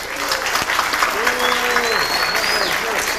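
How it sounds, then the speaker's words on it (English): Applause from the audience at a hacker conference panel on social engineering for the AV technician, steady crowd clapping with people talking over it. "the AV guy, give him a round of applause there"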